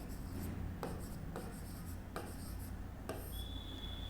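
Chalk or a marker scratches across a board during a maths lecture on sets, a series of short rubbing strokes with brief taps between them, quiet and steady, with no talking.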